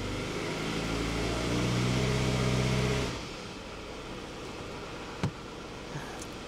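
Toyota Camry engine misfiring and stumbling under throttle while in gear: a loud, rough, uneven drone for about three seconds, then it drops to a lower steady hum with one sharp knock near the end.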